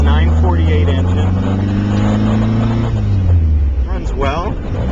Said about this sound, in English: This is a 948 engine.